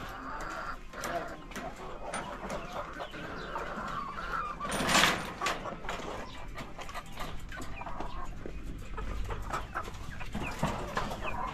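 Pet chickens cluck at feeding time in a backyard pen, scattered clucks and calls around the keeper with brief loud rustling near the middle and some speech mixed in.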